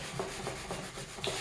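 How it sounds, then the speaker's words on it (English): Fine 1,000–1,500 grit sandpaper is rubbed back and forth over a metal engine part from a 1999 Ford Mustang Cobra, giving soft, rhythmic scratchy strokes about four times a second, quiet and close. "I'll hit it with some really light sandpaper"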